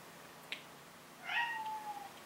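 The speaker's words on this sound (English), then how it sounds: "That's my cat calling" A cat meows softly once, then gives a longer, drawn-out meow, faint and somewhat distant in a quiet room.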